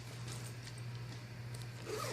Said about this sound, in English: it really zips well